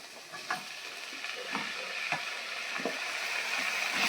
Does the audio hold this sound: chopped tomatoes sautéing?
yes